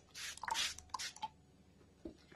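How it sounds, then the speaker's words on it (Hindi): A wet towel wipes homemade hair-removal wax off skin, making a few soft, close, swishing strokes in quick succession before it goes quiet. "ऐसे टॉवल से पोंछ लीजिए,"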